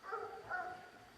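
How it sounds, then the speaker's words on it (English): Hound dogs used for deer hunting bark in the mountains, two faint, distant bays echoing one after the other. "People bringing their hound dogs up here."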